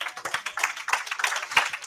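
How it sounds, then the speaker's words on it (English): A church congregation clapping for Jesus, quick steady applause from many hands at close range, rhythmic and bright with no talk over it. "Clap for Jesus for this one."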